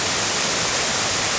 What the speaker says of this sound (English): Lots of white water running down it.